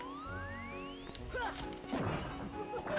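A pot in Kingdom Hearts is whacked and shatters, giving a sharp crash with scattering fragments over a quiet musical background, followed by a few more smaller breaking hits.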